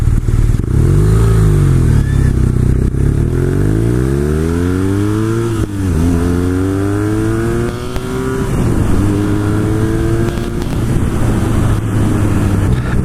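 A BMW R nineT Cafe Racer motorcycle rides at speed, its engine loud and close, climbing in pitch through several gear changes over steady wind rush.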